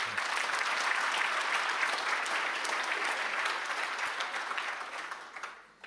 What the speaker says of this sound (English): you guys definitely deserve a special round of applause